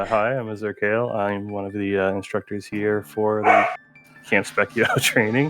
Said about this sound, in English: Trying to get a moment where my dog's not going crazy here.